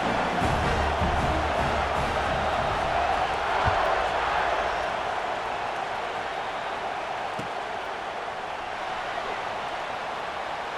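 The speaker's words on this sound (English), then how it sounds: "this crowd is buzzing after that last score." A stadium crowd in a college football video game keeps up a steady, broad buzz, loud and constant, while a commentator's voice talks over it.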